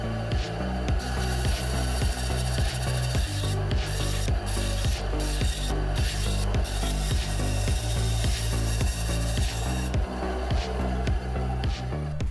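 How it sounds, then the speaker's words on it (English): Plastic Megaminx cylinder puzzle held and spun against a belt sander, producing a continuous loud abrasive grinding with a rhythmic thumping pulse from the belt and short bursts where the contact changes. "I just started spinning it up against the belt to slowly sand away the plastic and also keep the puzzle spinning."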